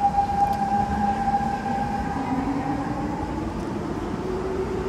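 Siemens C651 metro train motor in Singapore, a rising electric whine with sustained tonal hum climbing steadily over rumbling wheel and carriage noise, loud and close.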